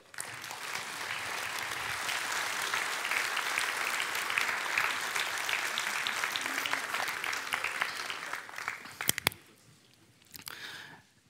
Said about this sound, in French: je vous demande à toutes et tous de les applaudir pour leur travail